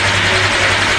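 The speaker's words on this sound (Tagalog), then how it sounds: "At papainitin lang muna natin. Maganda kasi ang motor pagka mainit na" A motorcycle engine idles to warm up before a ride, a steady low rumble close by, running evenly with no talking.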